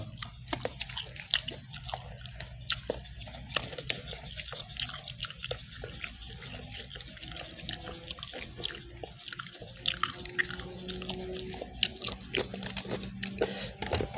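Close, quiet chewing of crunchy, spicy mala-seasoned food, with sharp irregular crunches and wet mouth sounds repeating throughout and no talk.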